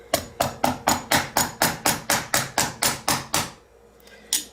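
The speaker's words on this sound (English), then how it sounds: "rawhide mallet" Rawhide mallet hammering a metal cuff bracelet shaped over a urethane block, about fourteen evenly spaced, fairly loud blows in a steady rhythm, then a pause and one last lighter strike.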